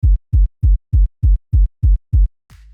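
A default FL Studio kick sample trimmed short for bass punch, played as eight tight, evenly spaced thumps in a steady loud rhythm, each clipped before its tail rings out, then a faint low hum.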